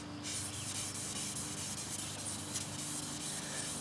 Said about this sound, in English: So I'm actually going to take a piece of 1000 grit wet, and now I'm going to continue to keep on sanding the rest of the panel.